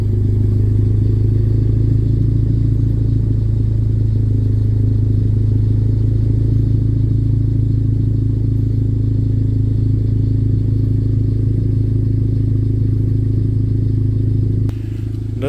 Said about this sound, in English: let me go ahead and turn the car on for you guys, and we'll get some clips of that exhaust.